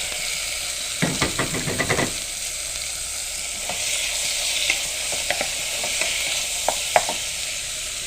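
Pork frying hard in a pan with a loud steady sizzle, while a utensil stirs and scrapes it in a quick cluster early on, followed by occasional sharp clanks against the pan.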